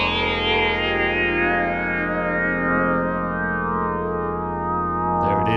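A Softube Model 80 synthesizer plays a sustained, rich chord through its classic filter, thick harmonics with chorus-like shimmer and slight distortion, steady and loud, a brief change near the end.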